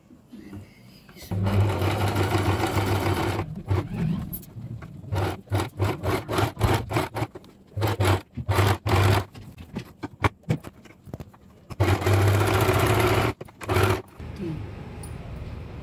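A sewing machine stitches lace onto a designer blouse, whirring in a sustained run, then in many short stop-start bursts, then another steady run, all close and loud.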